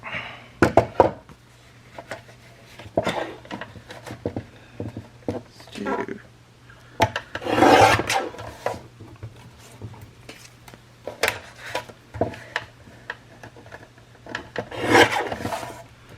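Scissors trimming a handmade paper tag cut in short, dry rasping bursts, several separate snips and rubs with pauses between, close and fairly quiet, with faint handling knocks and a low steady hum behind.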